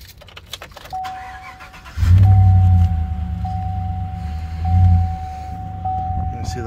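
Keys jingle and a chime tone sounds, then a car engine cranks and catches, settling into a steady, close idle rumble with a brief swell midway.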